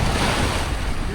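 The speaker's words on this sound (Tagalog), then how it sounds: "May alon na." Sea waves wash continuously nearby on open water mid-crossing, a broad steady rush mixed with wind buffeting the microphone.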